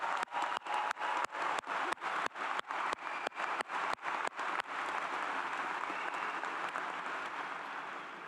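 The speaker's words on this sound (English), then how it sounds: "I think you all deserve a very loud round of applause." A graduation crowd gives a round of applause for families: sharp separate claps near the start, then swelling into broad, sustained clapping that fades slightly toward the end, fairly distant and with no talk.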